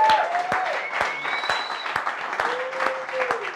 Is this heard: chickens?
no